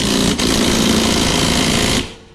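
A power tool drives in the blade bolt on a Toro Recycler lawn mower with a loud, close, rattling hammer-like buzz lasting about two seconds, with a brief dip near the start and a sudden stop.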